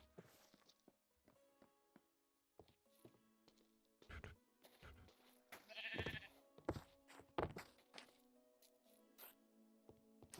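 A sheep in Minecraft lets out a couple of short bleats around the middle of the stretch, mixed with scattered footstep clicks and other game noises, with no talking.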